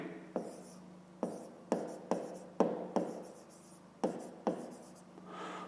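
Pen on paper writing out a fifth-grade maths exercise by hand, a series of about ten short, distinct scratchy strokes with brief pauses between them, close and fairly quiet.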